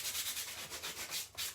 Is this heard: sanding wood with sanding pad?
yes